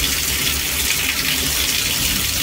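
Water gushes from a shower-style faucet head in a steady, loud, hissing stream that stays constant throughout, with no one talking.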